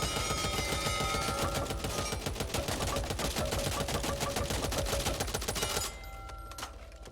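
An RPK machine gun rattles in a rapid, sustained automatic burst in the shooter game Back 4 Blood, loud and close, stopping abruptly near the end and leaving quieter game ambience.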